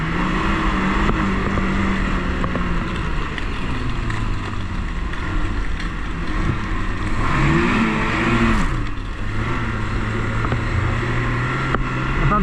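A 2026 Ski-Doo Expedition Sport 900 ACE Gen5 snowmobile engine runs steadily and close by with a smooth, even drone, and the revs rise briefly near the middle before settling back.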